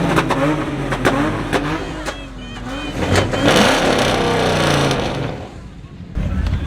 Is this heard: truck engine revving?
yes